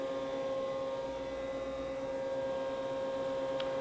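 A Haas horizontal machining center spindle runs at 8,000 RPM and gives off a steady, even whine with a constant hum beneath it, unchanging throughout with no talk.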